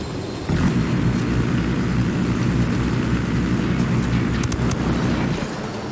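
A helicopter in the Ghost Recon Wildlands video game drones close by, its steady low rotor thrum and engine roar holding constant for several seconds.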